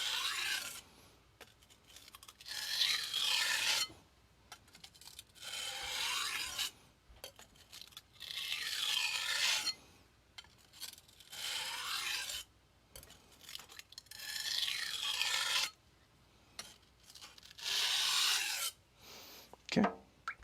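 A knife being deburred with light strokes on a 400 grit sintered diamond stone, a series of about seven separate raspy scraping passes, each a second or two long, separated by short quiet gaps.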